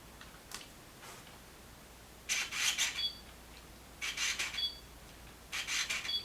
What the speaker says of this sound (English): Instead, it uses the old-style screwdriver autofocus, which is noisy, as you can hear.